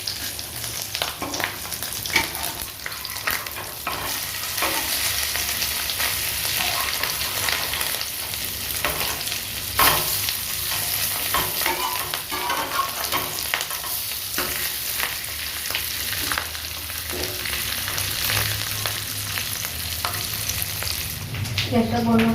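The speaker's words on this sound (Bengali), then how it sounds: "আমি একটু সামান্য তেলে ভাজছি" Fish roe and red lentil fritters fry in a small amount of hot oil, a steady crackling sizzle with occasional sharper pops and stirring scrapes, close and continuous without talk.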